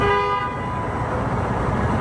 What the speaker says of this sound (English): That sound of honking is waking up neighbors lately in this South of Market neighborhood.